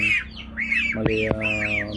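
A pet goose gives repeated loud, harsh squawks and honks, several calls in quick succession close by, over a low steady background hum.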